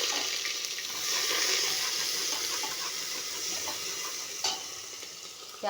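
Onion frying in hot oil with asafoetida and cumin makes a bright, steady sizzle and crackle, with a stirring clatter near the end.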